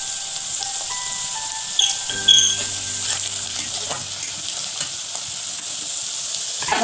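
Onion sautéing in a pan, a steady bright sizzle throughout with an occasional clink of a utensil against the pan, close and fairly loud.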